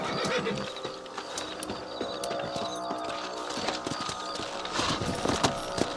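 Steady clip-clop of horse hooves with a horse whinnying partway through, set against a busy layer of outdoor ambience, in the video game Red Dead Redemption.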